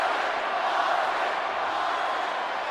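A wrestling arena crowd roars and chants for Stone Cold Steve Austin at a January 2001 event, a loud, unbroken wash of many voices from the stands.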